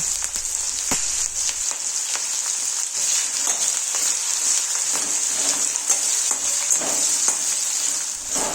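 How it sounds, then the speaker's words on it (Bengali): Chopped onion and green chilli frying in mustard oil left over from frying a fish head, a steady close hiss and sizzle with faint crackles throughout and no talking. "এবার ওই তেলে পেঁয়াজ ও কাঁচা লঙ্কার কুচি দিয়ে দিলাম"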